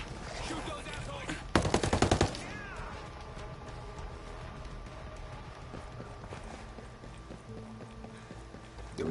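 Bursts of rapid gunfire from a video game firefight against enemy positions, one loud volley early on, then scattered quieter shots and game sounds.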